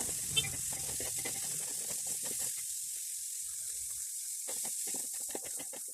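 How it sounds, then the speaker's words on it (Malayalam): Sliced onion and capsicum sizzling in a pan for chilli chicken, a soft, steady high hiss with faint scraping stirs throughout and no voices. "അതിലേക്ക് സവാള ക്യാപ്സിക്കം അരിഞ്ഞത് ചേർത്ത് കൊടുക്കുക"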